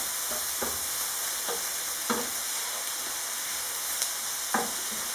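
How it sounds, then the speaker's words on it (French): A cooking filling with turmeric gets stirred in a pan, a continuous sizzle with several soft spoon knocks and scrapes spaced a second or so apart, close and unaccompanied by speech. "Je mélange bien le tout."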